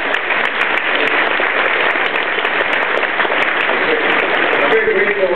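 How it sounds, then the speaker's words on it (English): Sustained applause fills a big house at an evening concert, loud and steady throughout without a break, with a little crowd noise mixed in. "Give a round of applause for the food."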